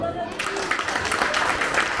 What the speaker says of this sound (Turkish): Çocuklar, Karagöz'ü şöyle bir alkışlayalım mı?